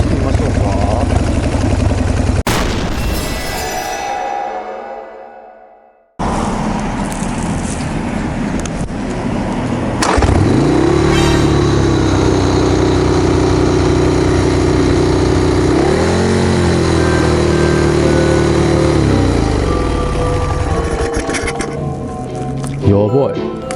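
Harley-Davidson Sportster engine with a freshly tuned HSR carburetor runs close by, idling roughly, then rising in a strong rev, holding steady and revving again before settling, after a brief cut to near silence early on.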